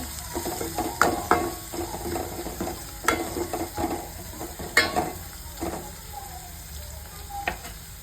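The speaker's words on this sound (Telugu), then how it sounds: "వెల్లుల్లిపాయలు ఇది కూడా ఫ్రై చేసుకోవాలి" Garlic frying in oil in a pan for rasam, a continuous close sizzle broken by several sharp spatula scrapes and clacks against the pan, with no talking.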